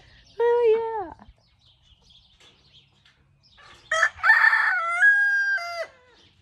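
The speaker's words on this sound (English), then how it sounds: "Quite the chickens." Rooster crowing twice in a chicken pen, a short near crow followed later by a longer, louder drawn-out cock-a-doodle-doo, with quiet clucking and rustling between.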